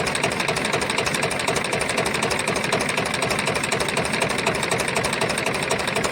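A Powertrac 439 tractor engine idles loudly nearby with a steady, rapid knocking chug that holds constant throughout.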